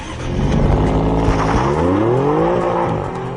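An Alfa Romeo Giulia Quadrifoglio with a twin-turbo V6 accelerates hard on a wet track, its engine note climbing steadily through the revs, loud and close and heard alone without talk.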